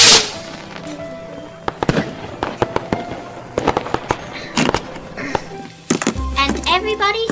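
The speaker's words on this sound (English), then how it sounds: "And let's let the firecrackers begin." Firecrackers and fireworks set off at a toddlers' Christmas and New Year's Eve party: sharp, loud bangs and crackles in an irregular burst, with a rapid cluster near the end, while children and adults talk in the background.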